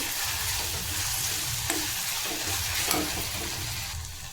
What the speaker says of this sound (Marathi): यातच आपल्याला कोथिंबर टाकायचं आहे बारीक चिरलेली थोडंसं परतून घ्यायचं आहे याला पण